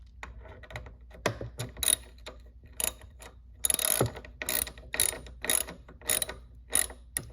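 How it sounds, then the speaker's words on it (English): Ratchet clicking in quick bursts while tightening a car battery's terminal clamps after the negative cable is reconnected, close and fairly loud, with short pauses between runs of sharp ticks. "simply reconnect your negative, just like that, and then tighten them down"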